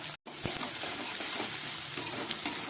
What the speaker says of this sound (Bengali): আমার পেঁয়াজ রসুনটা প্রায় ভাজা হয়ে গেছে